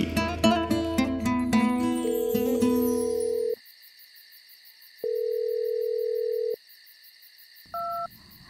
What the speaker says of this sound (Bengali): যাকে নিয়ে তাকেই তো এই মাঝরাতে ফোন করে ফেলেছে ঋতুশ্রী।